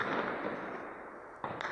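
A car bomb detonates in a suicide attack on an army area in Pakistan, a loud, broad boom that rolls into a sustained rumbling roar, with a second sharp burst near the end.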